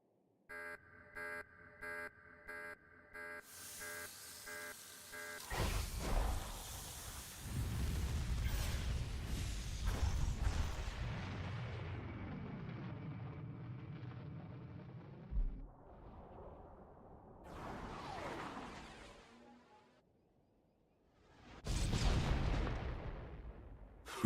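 An orbital artillery strike in Star Wars: The Old Republic: after a patterned electronic beeping, heavy booming blasts and rumbling explosions roll on for several seconds, fade, then a second loud burst erupts near the end.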